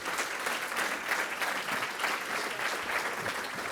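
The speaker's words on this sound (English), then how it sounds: "Big round of applause." A conference audience claps steadily for a speaker after a talk on medical device innovation, dense even applause holding for several seconds, with no voices over it.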